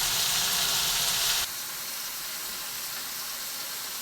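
Bitter gourd sautéing with tomato and salt in a pan gives a steady hissing sizzle, loud for the first second and a half before settling into a quieter, even hiss, with no talking.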